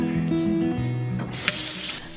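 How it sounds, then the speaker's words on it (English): Water from a tap pours into a sink, a steady close rush that brightens into a hissier splash partway through, while a sustained melodic tone plays underneath. "So I just fill up the sink with water."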